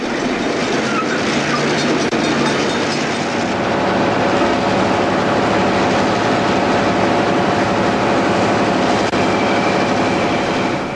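A Newfoundland Railway train rolls along the tracks with a loud, steady rumble and rhythmic wheel clatter, heard close and continuous for the whole stretch, with no voices.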